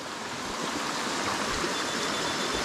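Stream water rushing steadily beneath a wooden log crossing about ten feet up on the Appalachian Trail, a constant broadband wash with no breaks, close and fairly loud.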